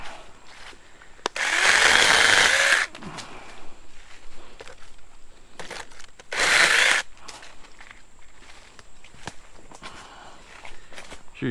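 A Sainlogic 21V mini chainsaw cuts wood in two loud buzzing bursts, the first about 1.5 seconds and the second shorter, with scattered clunks and handling knocks between and after the cuts.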